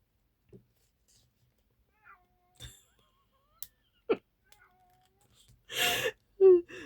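Domestic cats meowing indoors: a few short, quiet vocal sounds scattered through the stretch, then a louder, clearer meow and cry close by near the end.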